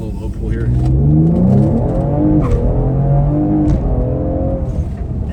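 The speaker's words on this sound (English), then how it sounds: "Do a little low pull here." Ford Explorer ST engine pulling through a low-RPM acceleration, a loud steady drone with rising harmonics and cabin resonance that holds throughout, with a brief voice cutting in.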